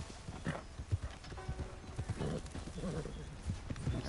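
Horse hooves clopping in Red Dead Online on PS5, a steady run of muffled hoofbeats with an occasional whinny, heard alongside a player speaking.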